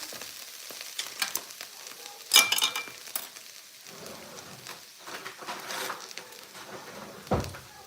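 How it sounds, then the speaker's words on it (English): Shiitake mushrooms fry in a hot pan with a continuous crackling sizzle, broken by a few sharper clatters of stirring and handling close by. "my shiitake mushroom is already cooking"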